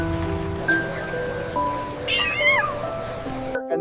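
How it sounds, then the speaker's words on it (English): A small ginger cat meows at a busy street market, with rising and falling calls near and clear over a steady background of market noise and faint talk. "And this little ginger cat."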